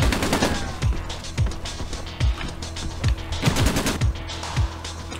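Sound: gunfire from the video game Breakdown

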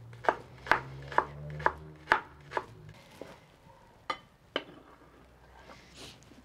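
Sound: knife slicing onion on a cutting board

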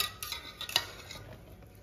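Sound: preparing tadka tempering for masoor lentils

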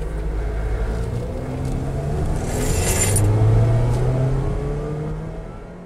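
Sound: car with 2.3 liter engine driving

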